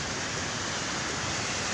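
Continuous broadband rushing water of typhoon floodwater moving in waves through a flooded town, steady and dense like surging waves or a torrent, with no talking.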